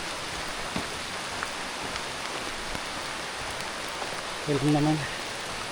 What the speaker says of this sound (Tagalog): Lakas na ng ulan, no? Basa na tayo.